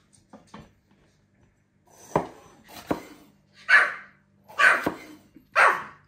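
A dog barking several times nearby, a few soft yips first and then louder sharp barks spaced about a second apart, with no one speaking.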